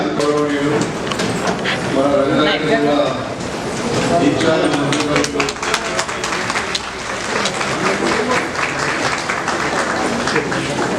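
An audience claps in welcome for a district minister at a government event at the Ranga Reddy collector's office, sustained dense applause lasting several seconds while a voice speaks over a loudspeaker.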